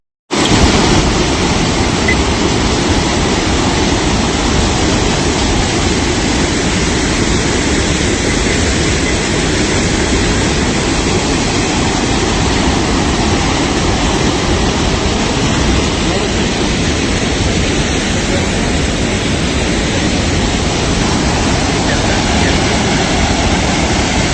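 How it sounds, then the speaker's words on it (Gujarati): Loud, continuous roar of the Sabarmati River in full flood below Dharoi Dam, rushing water steady and close throughout with no clear voices. "ફૂલ પાણી આવી ગયું નદીમાં"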